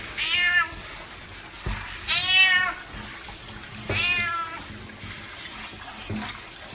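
A hose sprays water steadily while an elderly cat is bathed. The cat lets out three loud, drawn-out meows over the hiss, with a fainter fourth meow at the end.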